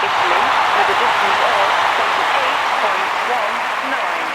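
A London 2012 Olympic stadium crowd reacts to a javelin throw with broad, sustained applause and cheering, a dense steady wash of sound that stays loud throughout.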